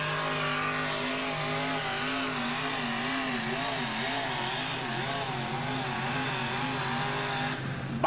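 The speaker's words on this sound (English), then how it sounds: "This is his second ride in his 1987 Ford Ranger 604 Hemi." A 1987 Ford Ranger truck with a 604 Hemi engine strains loudly through a tractor-pull run at Indianapolis, its deep engine note wavering steadily for several seconds before cutting off.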